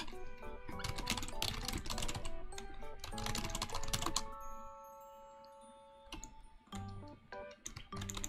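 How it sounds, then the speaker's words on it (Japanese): Rapid, dense keystrokes clatter on a computer keyboard in bursts, stopping for about two seconds before short flurries resume, close and crisp with a faint electronic tone in the gap. "スピーディータイピングスピーディーガール"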